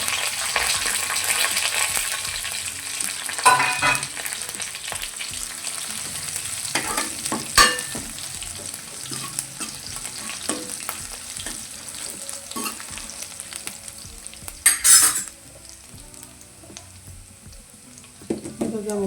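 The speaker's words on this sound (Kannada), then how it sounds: "ಆಯಿಲ್ ಬಿಸಿ ಆದಮೇಲೆ ಸ್ವಲ್ಪ ಸಾಸಿವೆ, ಜೀರಿಗೆ, ಕರಿಬೇವಿನ ಸೊಪ್ಪು, ಒಂದು ಮೆಣಸಿನಕಾಯಿ, ಬೆಳ್ಳುಳ್ಳಿ ಅಷ್ಟನ್ನ ಹಾಕಿ ಒಗ್ಗರಣೆ ಕೊಡಬೇಕು" Mustard seeds, cumin, curry leaves, a chilli and garlic crackle and sizzle in hot oil for a tempering, a steady close frying hiss with stirring clatter and a few louder sputters and pops.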